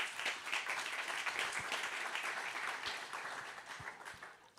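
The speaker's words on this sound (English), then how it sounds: "So thank you for giving them a round of applause," Audience applause at a yachting technology conference in Monaco, a steady wash of many hands clapping from a moderate distance that holds through and fades slightly toward the end.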